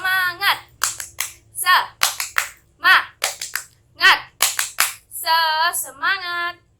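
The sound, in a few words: class clapping a rhythmic 'tepuk semangat' spirit clap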